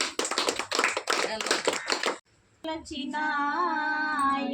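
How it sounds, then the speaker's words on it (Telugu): An audience claps together to welcome a guest at a gathering for elderly and destitute people in Machilipatnam; a dense burst of clapping lasts about two seconds, then after a short pause a sustained singing voice begins. "చప్పట్లతో ఆహ్వానిస్తున్నాం."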